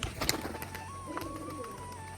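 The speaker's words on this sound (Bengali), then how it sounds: "এখন আমার বাড়ির পায়রাগুলোকে ছাড়বো" Soft, low pigeon coos near at hand, with a few sharp clicks and rustles early on and a faint steady hum beneath.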